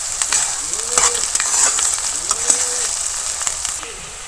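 Broiler chicken and plenty of onions fry in a pan with a steady crackling sizzle, broken by scraping stirs and a few sharp taps, while a voice speaks briefly in the background.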